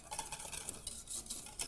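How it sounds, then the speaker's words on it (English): Whisk stirring gratin-style seasonings for mac and cheese in a pan, a steady quick scraping and clinking of metal against the pan that keeps going without a break. "Just whisk it together."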